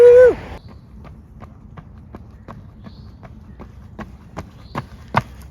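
A person out on a four-mile training run sets down footsteps in a steady, evenly spaced rhythm of sharp taps, growing slightly louder toward the end after a brief opening sound.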